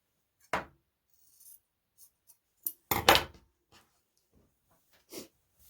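Scissors snipping through old linen fabric during an upcycling project, with a few sparse, short cuts and rustles spread over several seconds, fairly quiet and close, with no talking.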